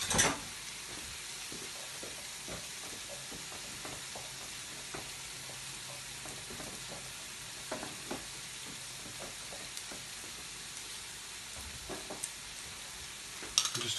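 Kidney beans fry in a pan of chilli, a soft continuous sizzle with scattered scraping stirs and occasional louder clatters at the start and end, no voices.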